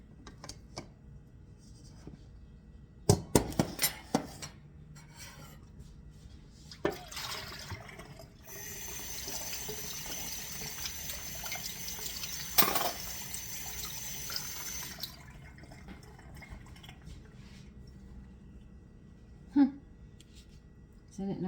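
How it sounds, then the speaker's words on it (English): Water drains from a kitchen sink while cooking Italian sausage buns, a steady rushing wash that swells in the middle for several seconds, with a few sharp knocks and clatters around it and a person talking at times. "Now we'll just let that drain."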